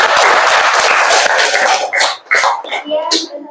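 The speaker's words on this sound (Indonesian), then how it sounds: "Tepuk tangan untuk kelompok 4." A classroom group finishes its presentation, and loud, dense applause from a room full of students fills the space, then tapers off into scattered claps and voices.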